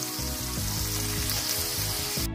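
Chicken pieces frying with onion, ginger and garlic in a pan for a quick chicken biryani, a steady dense sizzle with stirring clatter running close and loud throughout, without talk.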